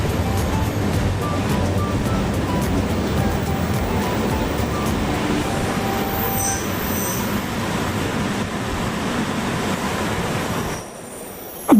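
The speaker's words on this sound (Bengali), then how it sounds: "বার্নিনা এক্সপ্রেস ব্রিজ পেরিয়ে চলতে থাকুক" The Bernina Express rolls across a bridge with a continuous, dense rumble of wheels on rails, faint squeals scattered through it, before the noise drops away abruptly near the end.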